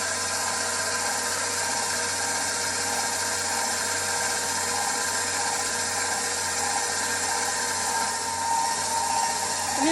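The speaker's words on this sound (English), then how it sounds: "Allow the dough hook to pick up all of the wet ingredients into the flour" A stand mixer runs steadily with its dough hook working wet ingredients into flour for cinnamon roll dough, giving a loud, continuous motor whir with a constant hum that holds throughout.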